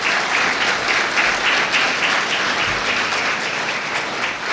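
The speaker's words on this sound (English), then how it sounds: "give a big applause to these resource persons" Loud, sustained applause from students at a law college national seminar, honoring resource persons; dense clapping holds steady throughout without interruption.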